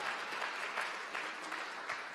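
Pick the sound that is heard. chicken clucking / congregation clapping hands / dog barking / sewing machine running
congregation clapping hands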